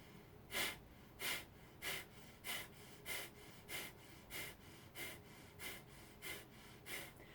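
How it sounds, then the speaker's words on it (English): Kapalabhati breathing: about a dozen sharp, forceful nasal exhalations in a steady, evenly spaced rhythm, each a short breathy puff close to the listener, with quiet passive inhales between. "it's a forceful exhalation, passive inhalation. So it looks like this all together."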